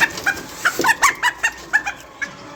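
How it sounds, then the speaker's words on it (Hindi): Hens and a rooster released from their cages cluck in a quick, irregular series of short calls, close and fairly loud, with no speech. "ये सब तो मुर्गियाँ शुर्गियाँ खुल गई हैं"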